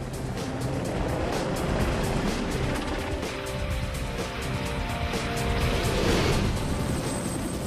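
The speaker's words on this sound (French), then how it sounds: "Le EH-101 traverse le ciel comme un oiseau-mouche." An EH-101 helicopter flies by with a steady, droning rotor and engine roar that holds at a fairly even level and swells slightly near the end, with no other sounds.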